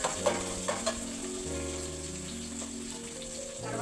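Curry leaves drop into hot oil in a pan for a coconut milk vegetable biryani and give off a steady close sizzle with a few sharp crackles and pops near the start.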